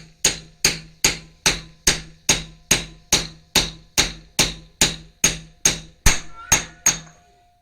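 Hammer tapping lightly on a 36 mm socket fitted on a Chevy Vortec 5.7 350 engine during a rebuild, sixteen or so evenly spaced metallic taps in a steady rhythm, close and clear.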